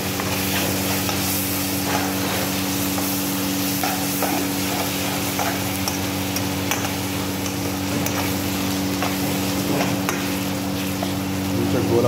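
Chopped onions sizzle and fry in a pan while being stirred, a continuous close hiss with scraping under a steady background hum.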